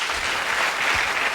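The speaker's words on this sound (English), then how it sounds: "One clap for all the doctors" A crowd at a CPR training session claps together for doctors, a brief burst of steady, fairly loud applause filling the room.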